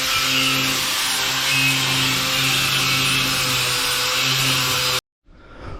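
An angle grinder strips rust from metal during a pig house revamp, a steady loud whining grind running continuously for about five seconds before cutting off abruptly.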